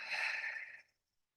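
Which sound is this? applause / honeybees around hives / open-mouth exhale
open-mouth exhale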